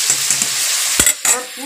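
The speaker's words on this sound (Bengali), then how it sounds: "এটাকে আবার ভালো করে 10 মিনিটের মতন ভাজবো" Minced meat and spices frying in a pan, a brief close sizzle broken by a couple of quick stirring scrapes and knocks of the spoon.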